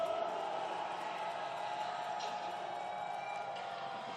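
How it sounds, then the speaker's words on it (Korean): Crowd at a candlelight rally marching against the government raises a dense, steady roar of cheering and clapping that holds at an even level throughout, a broad outdoor wash of many voices with no single speaker standing out. "힘찬 박수와 함성 부탁합니다"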